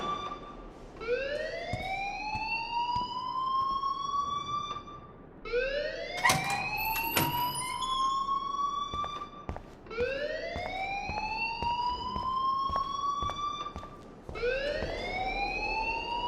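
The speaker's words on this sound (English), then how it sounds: "please turn off that alarm since that's your job" A rising, wailing alarm in the video game Life Is Strange, repeating in four long sweeping cycles with brief gaps between, loud and alone.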